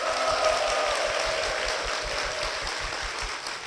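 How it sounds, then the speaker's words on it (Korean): A church congregation or studio audience on a Korean Christian TV program greets a guest with dense, even clapping that stays steady and moderately loud for several seconds. "손경천 권사님 박수로 모시겠습니다"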